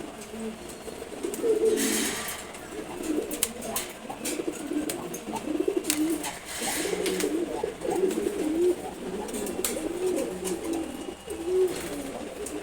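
A pair of khaki pigeons coo repeatedly at close range, their low throaty calls rising and falling over a dozen seconds, with occasional clicks and rustling around them.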